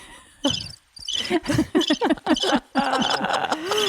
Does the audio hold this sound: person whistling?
no